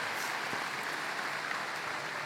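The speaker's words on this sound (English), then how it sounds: "Let's give your principal a big round of applause." Audience applause for the principal at a 2022 high school commencement ceremony, a continuous, even wash of many hands clapping that sounds somewhat distant in a large venue.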